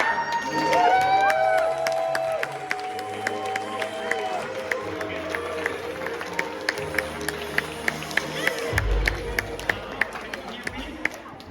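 An audience at a leadership retreat cheers and applauds, a broad wash of crowd noise and scattered claps that stays steady throughout, with a voice speaking over it.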